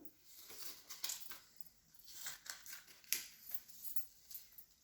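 Scissors cutting out paper porcupine shapes, a faint, close series of crisp snips in uneven rhythm, heard alone.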